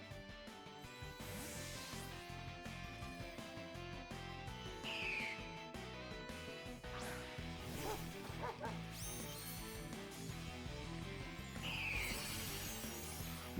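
In a Pokémon video game battle, a dog Pokémon's synthetic cry sounds, with barking yips and whistle-like calls over game music and effects, fairly quiet throughout.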